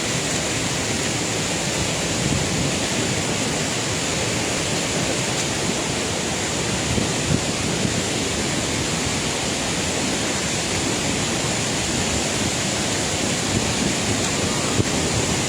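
The Flumen waterfalls at Saint-Claude, swollen with snowmelt, give a loud and constant rushing roar of falling water that fills the whole stretch without a pause.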